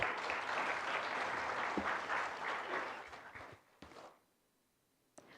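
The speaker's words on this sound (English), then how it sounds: "can we have a huge round of applause," Audience applause at a business roadshow in Noida, a sustained crowd of clapping hands that holds steady, then thins out and fades to near silence, followed by a single late clap.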